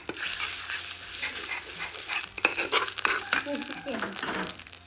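Red curry paste with a little chili stir-fried in a small amount of oil for a Thai dish, giving a steady close sizzle broken by frequent scraping and clacking strokes of the spatula against the pan.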